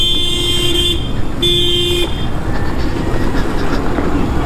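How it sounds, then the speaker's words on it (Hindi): Vehicle on a road under four-lane construction between Chandpur and Akelwa: a steady, loud rumbling roar of traffic with a sustained horn-like tone sounding twice early on, then continuing engine and road noise. "ये देखिए जा रही गाड़ी"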